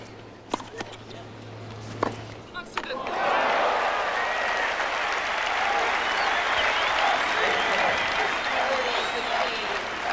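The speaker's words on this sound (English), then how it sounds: "With shots like this that had Martina applauding and the crowd chanting." A tennis crowd at the 1989 US Open bursts into sustained, dense applause after a few sharp racket-ball thumps, then holds steady and loud for the rest of the stretch.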